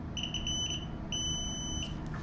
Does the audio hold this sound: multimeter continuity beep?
yes